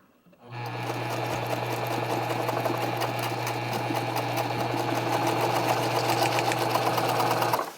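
A Pfaff 230 sewing machine stitches leather, running steadily with a fast mechanical whir and rapid needle clatter plus a low motor hum, loud and continuous for several seconds before stopping.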